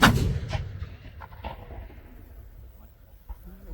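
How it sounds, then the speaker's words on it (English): A Civil War artillery cannon at a Gettysburg demonstration fires a reduced charge of about seven ounces of powder: one sharp, loud boom that rolls away into a fading echo. "We're firing about 7 ounces of powder. That's about a third of the charge."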